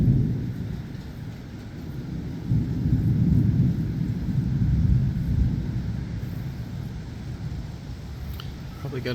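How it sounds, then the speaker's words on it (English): A thunderstorm rolls in with deep rumbling thunder and a steady wash of heavy rain, loud and enveloping, with faint traffic noise beneath. "And here comes the rain. Such a beautiful sound."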